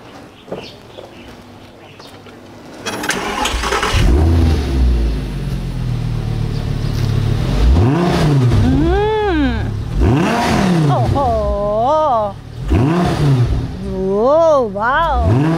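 A used 2011 Audi R8 with a naturally aspirated engine is revved several times, its loud, close blips rising and falling in pitch after a stretch of people talking over a faint idle.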